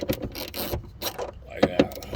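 A socket, used without its ratchet handle, works fasteners loose on a Jeep, giving a few short metallic clicks and scrapes up close, with a couple of sharper taps near the end.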